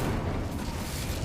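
The Incendio fire spell being cast in Hogwarts Legacy, heard as a loud, dense, roaring whoosh of flame that holds steady for its whole length without a break.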